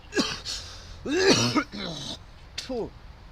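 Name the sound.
coughing from vape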